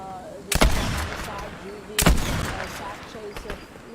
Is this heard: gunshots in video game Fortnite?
yes